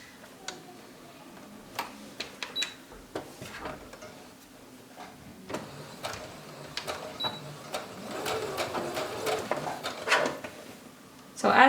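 A sewing machine stitches a lined bodice seam to its lining in short, stop-start bursts of mechanical ticking and clatter, with handling noises between runs and a faint voice at times.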